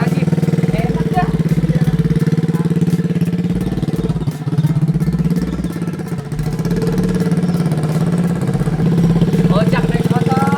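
An upgraded motorcycle engine runs loudly and up close, a steady throbbing idle with brief revs rising and falling, while people talk beside it.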